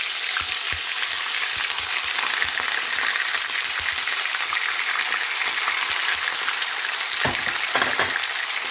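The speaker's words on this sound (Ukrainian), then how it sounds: "воно зараз буде кварчати сильно" Steady, loud sizzling of meat frying in a hot pan, a continuous crackling hiss with occasional sharper pops and stirring clatter.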